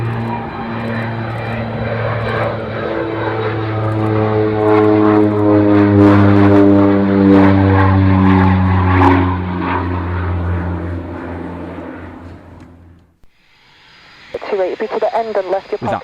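Rockwell OV-10 Bronco twin-propeller aircraft displaying at an airshow, a loud, steady droning buzz with strong harmonic propeller tones that cuts off abruptly, after which a voice is heard talking.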